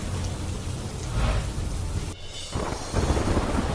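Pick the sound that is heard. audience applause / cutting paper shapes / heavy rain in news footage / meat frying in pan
heavy rain in news footage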